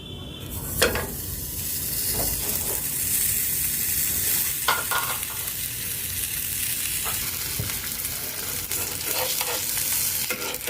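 Paratha frying on a new tawa with a little oil, a steady soft sizzle throughout with occasional scraping and stirring touches close by, no talking.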